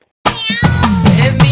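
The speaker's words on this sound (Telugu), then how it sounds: "పిల్లి" A cat lets out a close, loud meow that rises and stretches, with a couple of quick catches in the voice, after a brief silence.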